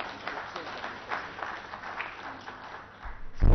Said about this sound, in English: You should all clap for them.